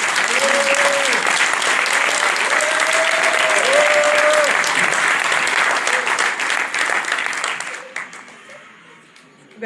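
A crowd at a France Insoumise municipal election rally in Livry-Gargan applauds loudly and steadily for several seconds, with sustained dense clapping over tonal speech or chant sounds, then fading out near the end.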